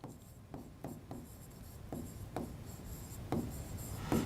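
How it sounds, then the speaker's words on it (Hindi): Chalk or marker strokes on a classroom board, a run of short scratchy bursts spaced irregularly, close and fairly clear with no voice over them. "लिख देता हूं मैं"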